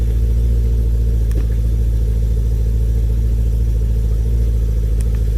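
A BMW E92 M3 engine idles steadily and loudly up close, a constant low rumble with no change in pace throughout.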